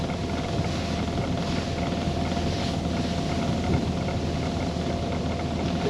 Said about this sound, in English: Didn't think the wind was that strong,